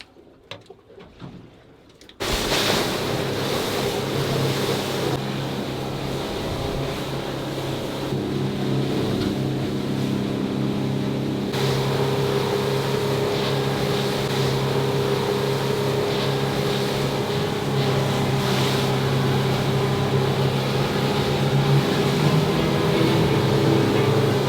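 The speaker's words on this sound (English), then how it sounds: "we've just steamed across the ocean to another spot." A fishing boat motors across open ocean, its engine a steady low drone with a sustained hum that starts abruptly after a quiet moment and continues loud and unbroken, with wind and water rush layered over it.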